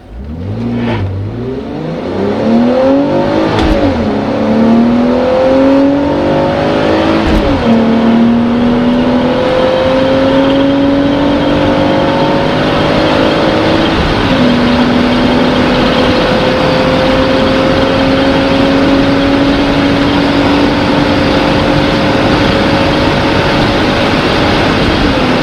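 A BMW Z4 3.0 SMG E85 pulls hard from a standstill toward 100, its engine note climbing through several gear changes with brief dips between shifts, loud and close throughout.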